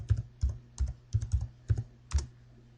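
Fingers type a username and password on a computer keyboard in short bursts of close, crisp key clicks, about seven quick clusters of taps with brief pauses between them, no talking.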